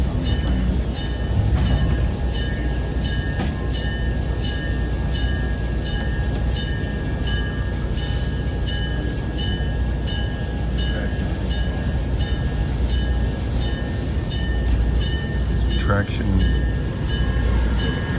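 A train rolls into the shop yard at the Tennessee Valley Railroad Museum, with a steady rhythmic clatter of wheels over rail joints and a sustained metallic ringing tone running throughout.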